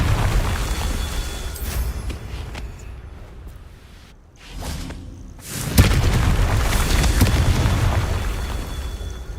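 Confringo fire spells exploding in Hogwarts Legacy, heavy booming blasts with rumbling tails, one burst early, a quieter lull, then a sharp loud explosion near six seconds that rumbles on.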